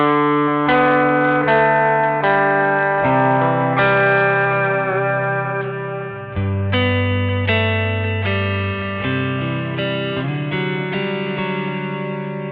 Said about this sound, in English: the dual stereo delay is going to be the more ambient of the 3